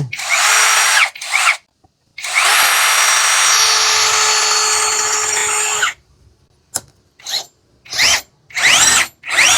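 A KEELAT KCD011 cordless drill whines loudly up close at speed 2, running in one long sustained burst before a pause, then a string of short on-off triggers.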